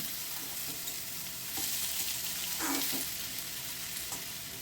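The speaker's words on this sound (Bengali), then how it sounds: "এই যে কেটে রাখা চাল কুমড়োগুলো এর মধ্যে পুরো দিয়ে দিলাম" Pieces of cut ash gourd hitting hot oil and fried spices in a pan, giving a steady, close hiss of frying with a few soft scrapes of stirring and no voices.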